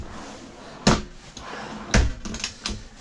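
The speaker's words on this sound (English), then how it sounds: "Cutlery drawer" Cutlery drawer in a 2016 Elegance 480 caravan kitchen, with a couple of sharp wooden knocks and a softer rattle as it slides and bumps, close and moderately loud.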